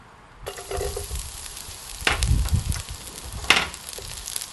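Garlic fries in hot pork lard for fried rice, a close sizzle with stirring scrapes and bursts of crackling that swell and fade.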